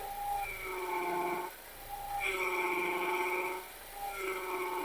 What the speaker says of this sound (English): Dilan, can you turn the wheel left and right, please? Yeah, you can hear the winding noise.